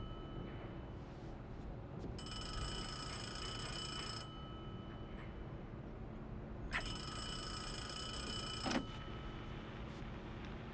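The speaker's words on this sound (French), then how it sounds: "décrochez le téléphone!" A telephone rings in two long bursts, each about two seconds, over a steady low background rumble.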